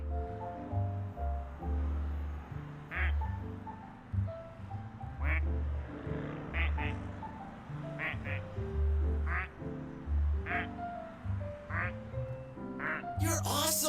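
Duck quacking in a video game, a mallard-like call repeated in rhythmic bursts over a low steady musical backdrop, with occasional brief clicks.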